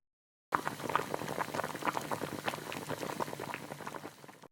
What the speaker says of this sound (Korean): 지금도 라면을 끓이고 있어요